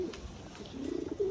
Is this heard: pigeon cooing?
yes